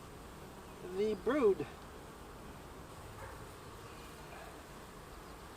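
Honey bees hum softly and continuously in an open hive of nurse bees and brood, a low steady buzz beneath a man's brief speech.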